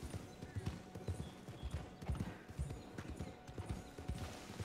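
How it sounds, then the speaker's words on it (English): Steady clip-clop of horse hooves in Red Dead Redemption 2, a continuous trotting rhythm, quiet and somewhat distant. "Is a horse, of course."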